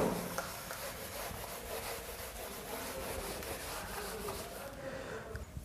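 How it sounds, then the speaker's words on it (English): Writing gets wiped off a classroom board during a maths lesson, a steady, faint, scratchy rubbing that continues without pause for several seconds. "I'll rub all this out now."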